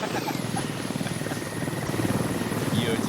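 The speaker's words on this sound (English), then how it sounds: "get their helicopter down, landed first" A military helicopter in the tactical shooter Squad thumps with steady rapid rotor beats and a whining turbine, loud and continuous as it comes down to land, with commentator voices underneath.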